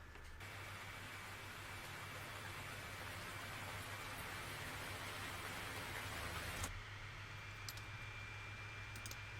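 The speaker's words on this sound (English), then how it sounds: "Every good lo-fi track needs a good rain sample." A steady background hiss of rainfall used as a sample in a lo-fi music track, even and continuous throughout, with a sudden drop in texture partway through.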